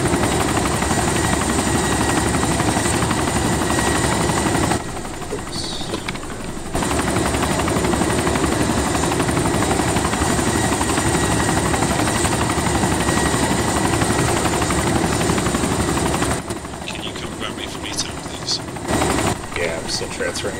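A helicopter engine in DayZ Origins drones and whirs loudly and steadily, dropping briefly twice as if cut off, with no talk over it.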